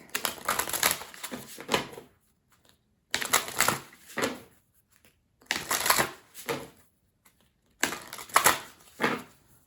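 An Archeo tarot deck is shuffled by hand in four separate riffling bursts, each a close crisp flutter of cards followed by a short pause.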